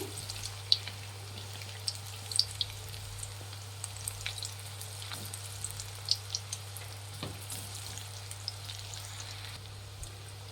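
Raw banana kababs fry in oil with a quiet, continuous sizzle, scattered with small crackles and pops and a low steady hum underneath.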